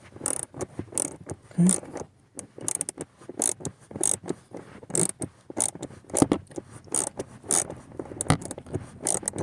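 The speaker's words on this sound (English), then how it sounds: "it's a 9/32 bolt, and we're going to proceed and remove it." A hand ratchet clicks in repeated short bursts while backing out a 9/32 bolt on the blower fan of a 2009 Cadillac Escalade, close and crisp, with brief pauses between strokes and a single spoken word.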